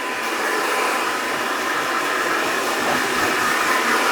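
Hair dryer blow-drying a man's straight, flat hair during a haircut, giving a loud continuous rushing whoosh of air close to the microphone with no pause.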